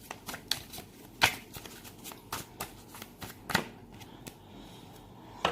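Tarot cards are shuffled by hand in a quiet room, giving a run of soft, crisp riffles and taps, some louder than others, with no voice over them.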